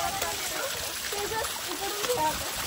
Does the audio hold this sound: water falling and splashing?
yes